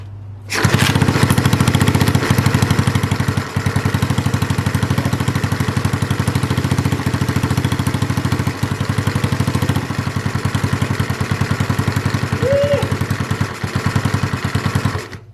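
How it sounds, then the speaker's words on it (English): A 90cc engine on a Skyteam PBR motorcycle starts up and runs for the first time, settling into a loud, steady, rapid-firing idle with a clattery buzz that continues unbroken to the end. "I also start the 90cc engine for the first time"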